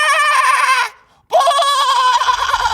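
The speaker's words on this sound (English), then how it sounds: "It's a goat." A goat bleats in two loud, wavering calls with a brief pause between them, the second call trailing on; no talking.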